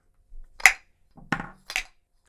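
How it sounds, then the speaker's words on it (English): A battery turned backwards serves as a makeshift hammer, tapping a part into a Maglite flashlight: three short, sharp knocks spaced about half a second apart, close and clear with no talking. "I put the battery in backwards and use it as a hammer"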